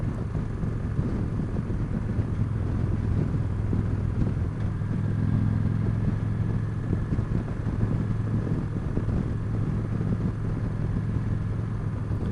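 Steady engine rumble from a 2015 Victory Cross Country motorcycle on a ride, heard from the saddle, a continuous low drone mixed with wind noise and no talking.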